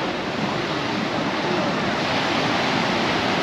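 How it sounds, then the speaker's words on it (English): Sea waves wash steadily onto the beach at Sant Elm, Mallorca, a continuous broad rushing surf close by with wind buffeting the microphone. "See the waves."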